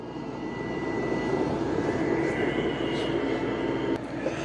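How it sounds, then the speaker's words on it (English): A Roomba Plus 504 robot vacuum drones steadily while cleaning a carpeted room, its motor a constant broadband whir with a few brief faint bumps and no talking. "Wow, it is vacuuming pretty good."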